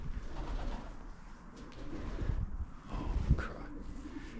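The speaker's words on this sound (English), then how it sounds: "Why the pigeon noise is quite scary." Pigeons coo in a burnt-out building in a town in Kent, soft low rolling calls repeating nearby over faint wind noise.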